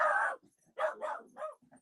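A dog named Orion gives a few sharp, close barks in quick succession, loud against an otherwise quiet room, with no talking.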